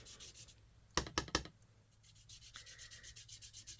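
Foam ink dauber swiped sideways across the raised ridges of a rubber stamp while card making, giving three quick, close scratchy rubs followed by softer faint rubbing.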